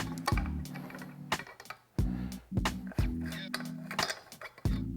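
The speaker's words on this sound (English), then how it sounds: "So to remove these assemblies, I just have this Motion Pro pin spanner. Select the correct size pin and then we'll break that free." Metal pin spanner working loose a WP Supertrax shock assembly, giving a series of sharp clinks and knocks with a repeated ratcheting rhythm, close and fairly loud over a low background hum.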